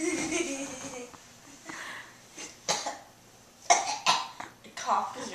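Coughing from young people hanging out: a few short bursts of coughs and throat sounds spaced apart, mixed with chatter and laughter close to the microphone.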